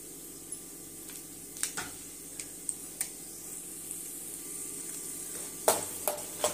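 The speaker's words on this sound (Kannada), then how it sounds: "ಕಮ್ಮಿ ಉರಿನಲ್ಲಿ ಫ್ರೈ ಮಾಡ್ಕೋಬೇಕು, ಸೀದೋದ್ರೆ ಚೆನ್ನಾಗಿರಲ್ಲ." Peanuts, cashews, chana dal and urad dal frying in oil over low heat while making lemon rice, giving a steady soft sizzle broken by a few sharp stirring clicks and taps, with no talking.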